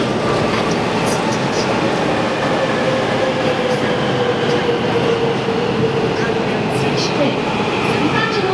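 A circle-line subway train on Seoul's metro, heading toward Gangbyeon station, pulls into the platform with a loud, steady rumble and a faint high whine, close and unbroken throughout.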